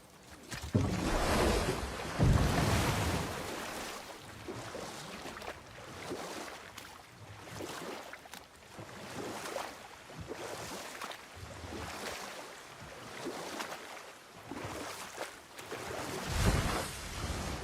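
A boat moving across ocean waves in God of War (2018), with continuous rushing water and wind and loud swells that surge and fade every couple of seconds.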